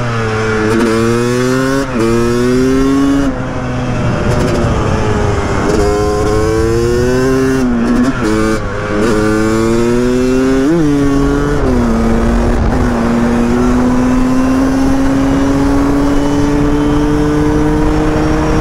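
A Yamaha 250 YZ supermoto two-stroke revs hard on a track, loud and close. The pitch climbs and drops repeatedly through gear changes and throttle blips, then settles into a long sustained high-revving run.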